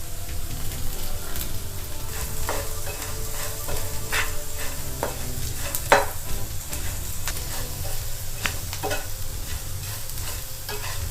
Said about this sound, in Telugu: కారం, ఉప్పు రెండు కలిసే విధంగా మన ఫ్రైని ఇలా కలుపుతూ ఉండాలి